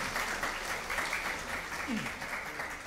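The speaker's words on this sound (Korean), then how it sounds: "박수 부탁드립니다" Steady applause from the audience at a high-school youth debate final, a sustained even wash of clapping with a voice faintly audible beneath it.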